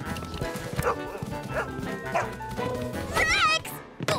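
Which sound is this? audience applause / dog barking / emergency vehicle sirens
dog barking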